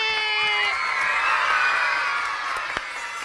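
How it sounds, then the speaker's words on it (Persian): Young children's audience cheering and shouting together on a children's show, a loud sustained crowd roar with whoops that gradually eases off. "تشویق!"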